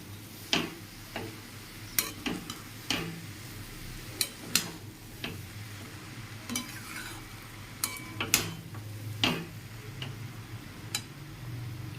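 A spice masala with fennel sizzles gently in a pan while a utensil scrapes and knocks against the metal in irregular sharp clicks, heard close up with no talk.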